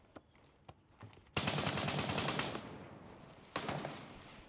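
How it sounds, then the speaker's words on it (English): Gunfire in the Gray Zone Warfare video game: a few faint clicks, then a sudden loud sustained burst of rapid shots that tails off, followed by a second shorter burst near the end. "I'm getting shot at."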